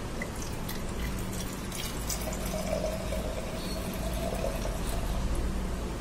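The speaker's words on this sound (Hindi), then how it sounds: "इसके अंदर डालूंगी मैं सबसे पहले आइस। और इसके ऊपर डालेंगे हम अपनी कॉफी।" Cold coffee poured over ice cubes in a jar, a steady continuous liquid stream that fills the whole stretch at moderate, close range with no talking.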